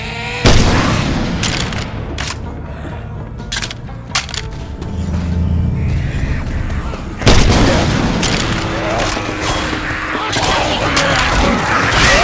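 Grenade launcher blasts in the zombie shooter game Left 4 Dead 2, with heavy booming explosions, one near the start and another midway, each followed by long rumbling and debris-laden noise, loud and close amid game chaos.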